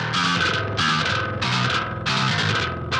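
Gritty, fuzzy distorted bass notes from a Skervesen Raptor FF8 guitar played in short repeated phrases, with buzzing high-end grit riding over the low tones.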